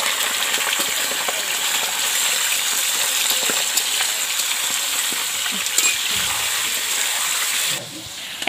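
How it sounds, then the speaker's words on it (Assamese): Meat frying in hot oil in a home kitchen gives a steady, dense sizzle and crackle that holds at an even, close level for several seconds before dropping off abruptly near the end. "মাংসখিনি ভাজি ল'ম"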